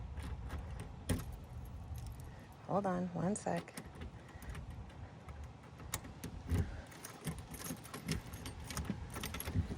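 Keys jangle and rattle in bursts while someone tries to unlock the door of a California bungalow. There are clicks and scrapes at the lock, and a person speaks briefly partway through.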